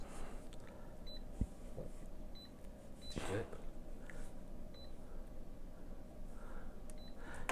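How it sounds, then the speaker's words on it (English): A Lowrance fish finder's fish alarm gives short, high, faint beeps at irregular intervals over steady background hiss on an ice-fishing setup. "so we're going to turn on our fish alarm."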